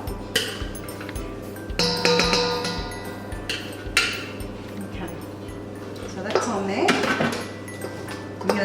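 Caramel popcorn is stirred in a Thermomix bowl to coat it, with repeated metallic clinks and knocks of the utensil against the bowl under a speaking voice.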